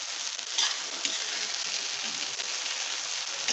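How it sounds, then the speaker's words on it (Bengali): Egg curry frying in a pan while being gently stirred, heard as a steady, close hissing sizzle with a few soft scraping touches from the spoon. "খুব হালকা করে, আলতো করে এটাকে একটু নাড়াচাড়া করতে হবে।"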